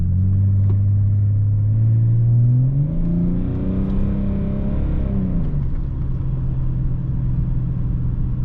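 A BMW 730D E38 with a 184 HP diesel engine and straight pipe exhaust drones loudly from inside the car during city driving, its low rumble climbing in pitch as it accelerates, then settling back to a steady cruise.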